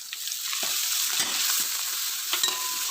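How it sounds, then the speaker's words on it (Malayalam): Crushed ginger and garlic sizzle in oil in a pan for a dried prawn and green mango pickle, with a steady hiss and occasional soft scrapes as they are stirred. "നല്ലോണം ഇളക്കി പച്ചക്കറിയൊക്കെ മാറുന്നത് വരെ ഇളക്കി കൊടുക്കാം"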